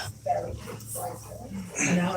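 A dog whimpers in short, high, repeated whines, three or four soft cries spaced about a second apart, close by with a person's voice faintly present.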